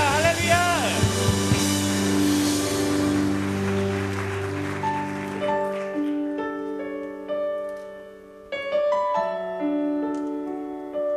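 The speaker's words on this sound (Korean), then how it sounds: "우리 주님께 영광의 박수 올려드립시다." A church congregation at a youth worship service applauds in praise, a dense wash of clapping over sustained music that fades after about five seconds, leaving the music playing on alone.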